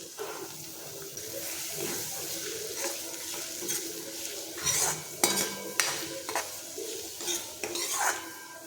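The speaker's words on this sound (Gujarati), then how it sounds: "તો હવે આપણે એમાં ઝીણી સમારેલી ડુંગળી નાખીશું" Chopped onion goes into hot oil with crackling cumin seeds and bay leaf for a capsicum and potato curry, sizzling steadily while a spoon scrapes and clinks against the pot in several sharp bursts.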